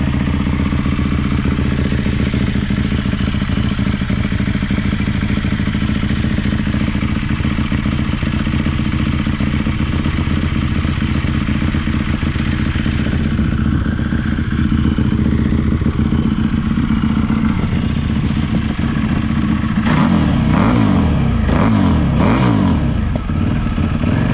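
An EBR 1190RX V-twin sport motorcycle engine, a 2014 American superbike, runs loud and steady, then revs up and down in several quick bursts near the end.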